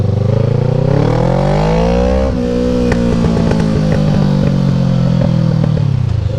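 A 47.5-horsepower motorcycle rides and accelerates nearby, its engine note rising steadily, dipping at a gear change with clattering mechanical noise, then climbing again, loud and continuous with no talking.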